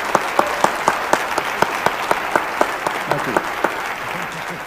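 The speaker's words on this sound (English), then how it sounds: "join me once again in giving John Corigliano a big round of applause" Steady audience applause for composer John Corigliano at a UBC alumni master class, a dense wash of clapping held at even loudness throughout, with a faint voice underneath.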